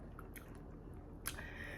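Close, crunchy chewing of sweet corn on the cob, with soft moist bites spread across the clip and a sharper crunch near the end.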